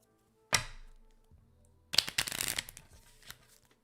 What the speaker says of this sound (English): Little riffle.